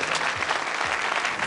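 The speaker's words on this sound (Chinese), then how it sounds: "掌声有请二位。" A studio audience on a Chinese family-dispute talk show bursts into loud, dense applause, a continuous close clatter of many hands with no pause.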